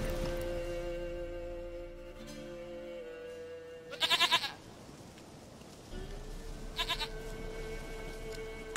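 Goat bleating in the Witcher 3 video game, two short wavering bleats several seconds apart, fairly close and loud over a quiet droning game ambience.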